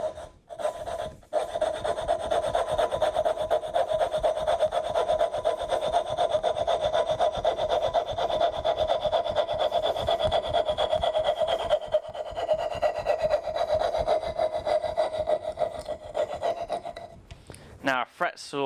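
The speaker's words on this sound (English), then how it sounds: "now I'm going to use a fret saw to hog out this material quickly" A fret saw cuts quickly through wood to clear waste for a box joint, a steady run of rapid rasping strokes with a pitched tonal buzz, close and continuous before stopping near the end.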